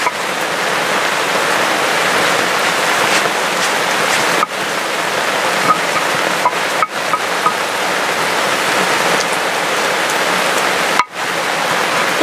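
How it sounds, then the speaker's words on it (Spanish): Heavy rain downpour falling outdoors, a dense, loud, steady hiss of water on surfaces with occasional sharp knocks and drips, continuing unbroken with no talk. "porque se nos vino el aguacero"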